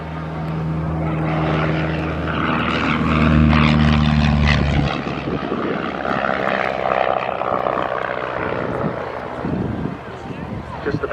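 A Miles Magister monoplane trainer flies at an RAF Valley air display, its propeller engine droning loudly and swelling as it passes before fading, while an announcer talks over it.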